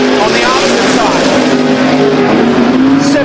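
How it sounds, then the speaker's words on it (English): Two turbocharged drag cars, a baby blue Chevrolet Malibu with a rebuilt turbo and a Nova, run side by side down a drag strip, a loud sustained engine roar with a steady droning pitch throughout, under crowd and commentator noise. "John Dodson, who, as we mentioned, rebuilt the turbo on his little baby blue Malibu left-hand side. He's looking for 750s, as is the Nova on the opposite side."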